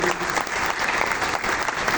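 Audience applause for Mehdi Hassan at a memorial tribute event, steady dense clapping from a crowd filling the whole moment without a break.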